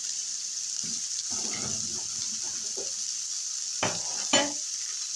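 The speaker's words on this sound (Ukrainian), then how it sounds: "Хвилинки дві хай просмажиться." Home-style chicken meat and potatoes fry in a pan with a soft, continuous sizzle and hiss, and a few sharp stirring scrapes near the end.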